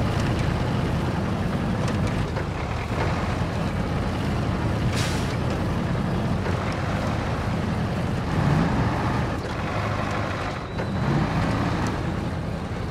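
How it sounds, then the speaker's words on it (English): A loud, rough truck engine drone in the video game Expeditions: A MudRunner Game runs steadily throughout, with a gritty rattling texture and a brief hiss of air partway through. "the engine audio just sounds like a bag of nails"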